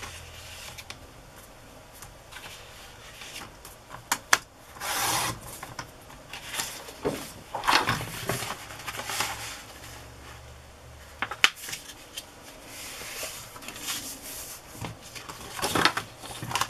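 Paper being cut and handled at a desk: soft scissor snips, rubbing and rustling in irregular bursts, close and fairly quiet.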